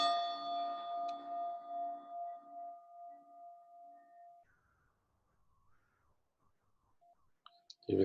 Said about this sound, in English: you'll hear the bell once at the start and once at the end